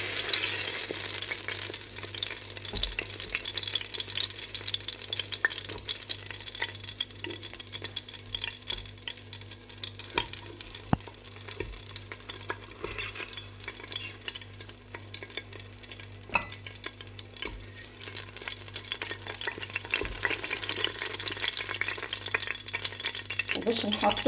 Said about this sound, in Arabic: لهنا الفلفل متاعنا تقلاي طيب نحيوهم.